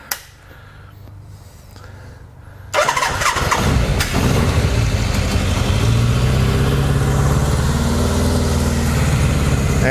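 A Kawasaki KZ550 motorcycle engine cranks and fires after a short quiet lead-in, then settles into a loud, steady running idle close by for the rest of the clip.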